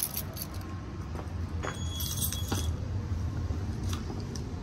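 Keys jangle and clink close by, picked up off a test bench beside a fire alarm control panel, over a steady low hum throughout.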